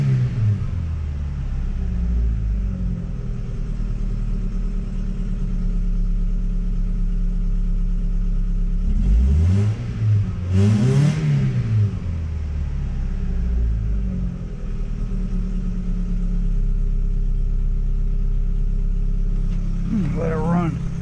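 A 3rd gen SUV engine runs at a steady low rumble, then revs up twice in quick rising-and-falling sweeps midway, with another short rev near the end.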